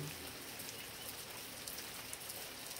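Rain falls in a soft, even hiss of many drops striking a surface, faint and constant with no voices.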